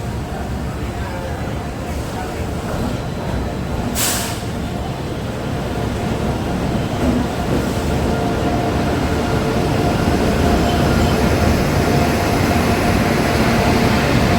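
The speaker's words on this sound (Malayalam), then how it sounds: "ഏതോ ട്രെയിൻ പോകുന്നത് കേരള എക്സ്പ്രസ്, ന്യൂഡൽഹി കേരള എക്സ്പ്രസ് ആണ്" New Delhi–Kerala Express train passing nearby: a steady, dense rumble that grows slightly louder over the stretch, with continuous rolling noise and no clear pauses.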